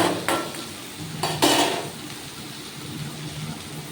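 A spoon scrapes and stirs paneer cutlet mixture in a pan, with a few sharp close strokes early on, then a quieter low sizzle and faint stirring.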